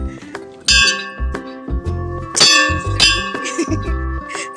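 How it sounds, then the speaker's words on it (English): A bell at a shop counter in a Cebu City store is struck over and over, giving bright metallic rings and clangs in a quick, uneven series, loud and close, with overlapping ringing tones. "I guess you have to ring the bell if you're here."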